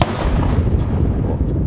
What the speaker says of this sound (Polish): Petardy strzelają.